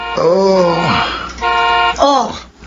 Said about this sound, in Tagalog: Busina ng kotse ni Ate Nancy yun.